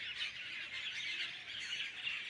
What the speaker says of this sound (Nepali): यो चराहरू यसरी आएको छ बसन्त नलागिकन यो टाइममा यसरी आएको छ चराहरू